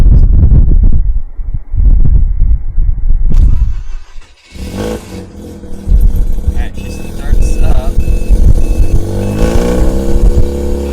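A Mazda RX-8 rotary engine with a hot start fault cranks in bursts, catches and revs, then settles into a loud, steady idle, close up.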